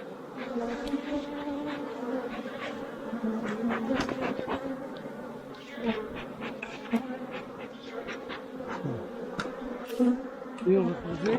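A dense, steady buzzing of many honey bees clustered in a hive during a honey harvest, close and continuous, with a low droning hum and scattered sharper flicks of wings throughout.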